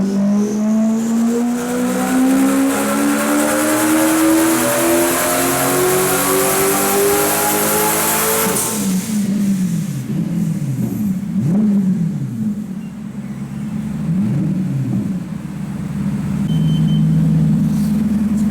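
A drift car engine revs hard on a dyno during a low-boost run, climbing loudly in one long pull. It then cuts to idle, followed by several short throttle blips and a lingering rumble.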